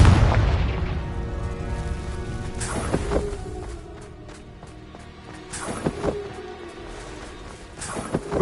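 Blasting spell explosions in Hogwarts Legacy, with several booming bursts a few seconds apart, each with a sharp crack and a rumbling tail, loud against a quieter game background.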